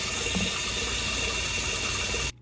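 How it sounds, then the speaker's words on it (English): A sump pump drains a sump and fills a mudskipper tank, giving a loud, continuous rush of running water throughout that cuts off abruptly at the end. "it's timed to be just about how long it needs to go in order to drain the sump, basically, and fill the tank to this amount"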